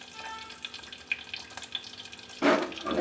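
Eggplant and ivy gourd go into hot oil in a pan, giving a light crackle that bursts into a louder, rushing sizzle near the end.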